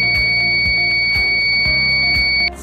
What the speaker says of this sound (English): The M6 buzzer unit can have three types of operations.